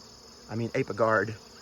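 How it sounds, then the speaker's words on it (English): Honey bees buzzing close by at a hive entrance in an apiary on an early July morning, a short burst of droning hum that swells and fades within about a second, with no talk. "you can see a lot more bees out on the front"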